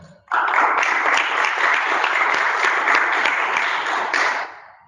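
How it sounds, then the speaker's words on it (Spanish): Audience applause bursts in suddenly and holds as a loud, dense wash of clapping for about four seconds before cutting off, welcoming a presenter at a technical talk. "les pido un aplauso, por favor, para él"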